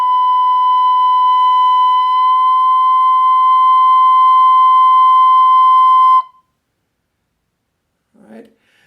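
A high note played on a Native American flute with one hole partly vented to raise the pitch: a pure, steady, whistle-like tone held for about six seconds, close and clear, then cut off, followed by a faint brief sound.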